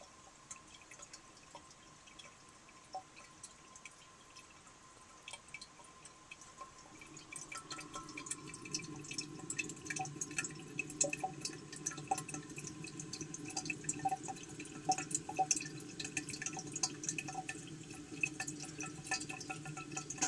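Water trickles and drips inside a 1936 Standard Modernus toilet, a faint steady trickle that grows fuller and busier after several seconds, with scattered close drips over a continuous wash.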